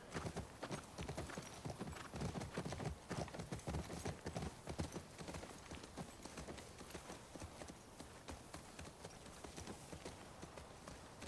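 Rhythmic clip-clop of horse hooves walking steadily in The Last of Us Part II on PlayStation 5, close and clear, continuing throughout with a faint whinny-like undertone.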